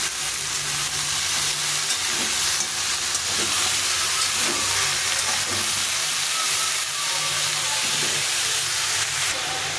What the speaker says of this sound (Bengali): তো এখন এগুলো সবগুলো একটু হালকা করে ভেজে নেব।